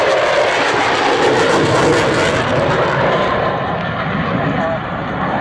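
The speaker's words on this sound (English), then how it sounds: "accelerating to 250 knots now, and will pass in front of you at about 450" Italian Air Force Eurofighter Typhoon jet accelerating past at an airshow, a loud continuous broadband roar that eases slightly toward the end, with a commentator speaking over it.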